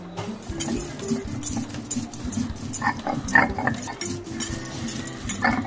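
Rice, cashews and spices being ground together on a stone slab with a grinding stone, close scraping and rolling strokes with irregular clacks and rhythmic rubbing throughout, no talking.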